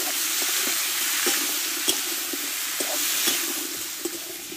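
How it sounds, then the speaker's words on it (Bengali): Pumpkin and ginger being stir-fried with sugar in a pan, with a constant hiss and sizzle and a spatula scraping in irregular strokes, close and alone. "চিনিটা দিয়ে ভালো করে আমি কষিয়ে নেব।"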